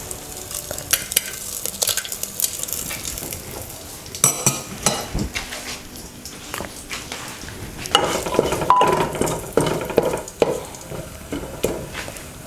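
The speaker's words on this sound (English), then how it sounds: "Once the oil get heated, I'm going to add the dry spices on it first." Dry spices frying in hot oil for a goat curry, a close, steady crackling sizzle with scattered clinks and scrapes, swelling into a louder, denser hiss over the final few seconds.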